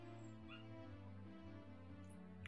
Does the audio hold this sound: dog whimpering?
yes